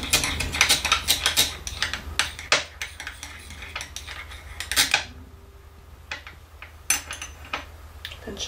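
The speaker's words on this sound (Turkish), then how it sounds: "Bir de şeftali sedef karıştırıyorum." Peach pearl pigment stirred into melted glycerin soap produces quick, busy scraping and clinking of a utensil against a container, steady at first, then pausing before a few scattered taps, close and alone.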